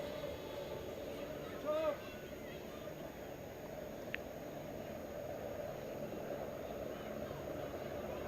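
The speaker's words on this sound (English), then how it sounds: "It's a big chopper going over the stadium." A large helicopter passes over a beach sand tennis stadium. Its steady, broadband rotor and engine roar sits under continuous commentary.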